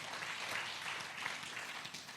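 A church congregation at a sermon service in Batam claps together, a dense, even patter of many hands sustained throughout, fairly faint and distant-sounding.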